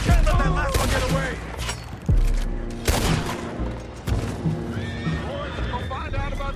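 Horses whinny and neigh repeatedly amid clip-clopping hooves, gunfire bursts and shouting voices in a Red Dead Redemption 2 shootout aboard a boat, loud and chaotic with several sharp cries.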